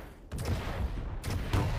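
Rocket launcher blasts and explosions in a Quake 1v1 championship match: several heavy booming bursts in quick succession, close and loud, with a short lull in the middle.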